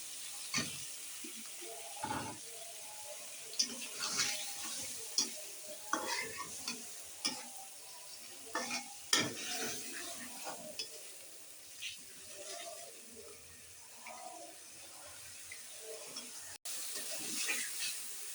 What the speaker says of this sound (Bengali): আমি পানি ছাড়াই লাউটা রান্না করি।